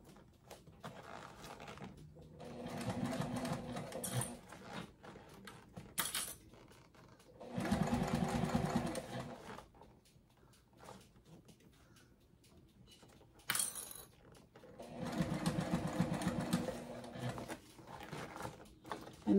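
Short bursts of a sewing machine stitching a Sallie Tomato circle bag, the motor running in stops and starts with quiet handling between runs, fairly close and moderately soft.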